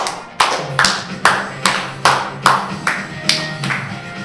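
Children clap their hands in a steady, even rhythm during an online Sunday school service, about ten sharp, close claps spaced evenly apart over a low musical hum.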